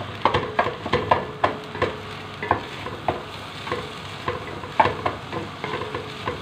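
Chicken fried in oil in a pan for fried rice, a steady low sizzle punctuated by frequent sharp clacks of a spatula stirring and scraping, close and moderately loud, with no voices.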